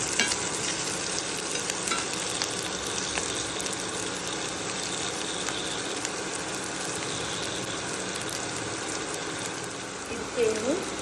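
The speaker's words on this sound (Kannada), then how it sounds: "ಆನಿಯನ್ ಫ್ರೈ ಆಗ್ತಾ ಉಂಟು, ಫ್ರೈ ಆಗಿದೆ" Onions frying in a pan for a colourful vegetable sabji give a steady, even sizzle with faint stirring scrapes, continuous at moderate loudness throughout.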